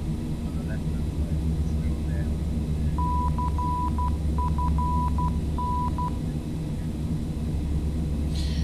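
An NDB Morse code identifier in a flight simulator cockpit of a Carenado Fokker 50 in snowy Irish conditions: a thin, steady beeping tone keys out a short dot-dash pattern over a constant low turboprop engine drone.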